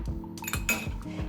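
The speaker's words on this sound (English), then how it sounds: "Give that a little whisk to dissolve the matcha." A spoon clinks against a cup while whisking matcha powder into a little boiling water, giving several quick, close metallic taps and scrapes in an uneven rhythm with no talking.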